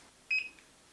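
A single short, high electronic beep, like a kitchen timer, against quiet background.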